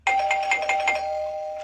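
An electronic calling bell rings at a house door, a single loud chime with several quick pulsing tones that settle into a sustained ringing note, clear and close with nothing else heard.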